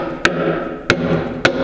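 A cooper's adze shaping the chamfer on the top of a whiskey barrel, three sharp evenly spaced strikes into wood, close and crisp, with no talk.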